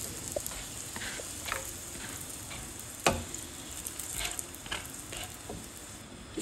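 Aloo lacha paratha frying in oil on a pan gives a continuous close sizzle with scattered crackles and a sharp pop or tap about midway. No one speaks.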